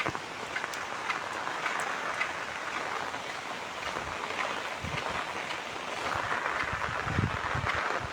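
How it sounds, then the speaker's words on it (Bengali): Heavy rain falls in the countryside as a dense, steady roar, with gusts of wind buffeting the microphone and occasional louder rumbles, constant throughout with no speech. "প্রচুর বৃষ্টি হচ্ছে এখন।"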